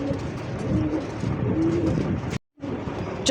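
Local Rasgolla-breed pigeons cooing close by in a low, continuous rolling murmur, with a brief sharp dropout near the end before the cooing resumes.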